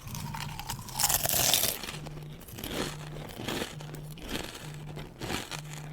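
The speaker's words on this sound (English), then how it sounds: "I'm going to be crunching these salmon chips because they are delicious" Salmon chips crunched and chewed close to the mic, with loud crackling bites and crinkly mastication in uneven bursts over a faint, steady low tone that pulses on and off.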